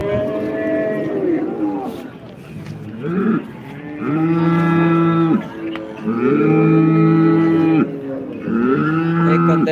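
Cattle moo loudly and close by at a cattle market, several long, low calls in a row, with faint voices and general bustle in the background.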